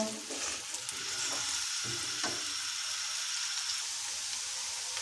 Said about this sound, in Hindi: इसी ऑयल में हम प्याज शामिल करेंगे और प्याज को हमने हल्का सा ब्राउन करना है